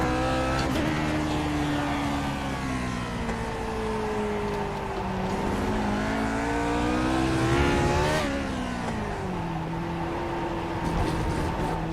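A race car engine howls at full throttle in the Grand Prix Legends sim on the VIR circuit, a loud, sustained, rising and falling wail with a gear change midway and no talk.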